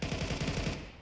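Rapid automatic gunfire in a video game, a dense loud burst of shots with a steady stuttering rhythm that tapers slightly toward the end.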